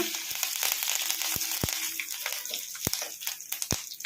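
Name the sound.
curry leaves frying in tempering oil with mustard and cumin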